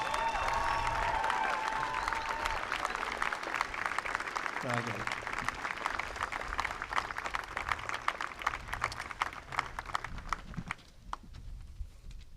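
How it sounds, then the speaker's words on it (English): Audience applause at an eighth grade graduation ceremony, a sustained wash of clapping from a large crowd that runs steadily for several seconds, then thins out and fades near the end. "If we could give another round of applause for Ms."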